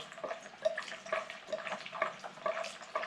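Kerosene poured into a K&T mill transmission makes a steady liquid trickle and splash, close by and fairly quiet, pulsing unevenly without any talk.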